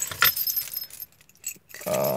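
Car keys jangle close by with a bright metallic rattle pulled from a pocket inside a 1997 Toyota Corolla DX, followed by a short pause and a low steady hum.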